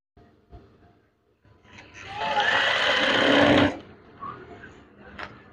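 Sewing machine stitching a folded hem on curtain fabric, a steady whirring run of about two seconds close by, with softer handling noises before and after.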